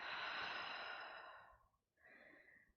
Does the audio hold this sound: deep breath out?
yes